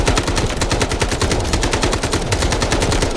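Rapid automatic fire from an AK rifle in the video game Garena Delta Force, a steady loud stream of closely spaced shots that runs without a break for about three seconds.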